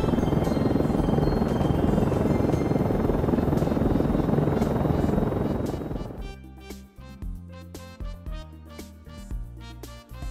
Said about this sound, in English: yellow, helicopter